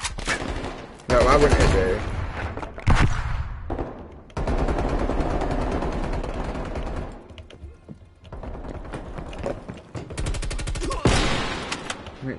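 Rapid AK-47 bursts from a Call of Duty match rattle loudly in long automatic volleys, broken by short pauses, with someone talking between and over the shooting.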